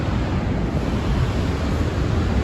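A river waterfall in a Colorado canyon roars as a steady, loud, broadband rush of falling water with no pauses, buffeted slightly by wind noise on the microphone.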